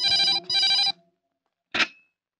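A telephone in a film rings with two quick electronic trill bursts, a brief silence, then a shorter chirp cut off, close and clear with no speech over the ringing.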